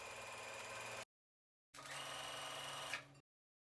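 A sewing machine runs a straight stitch along a folded fabric scrunchie, two quick whirring bursts close by separated by a brief silence.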